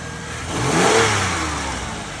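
A car engine revs up in a single smooth rise and then eases back down, heard close and fairly loud.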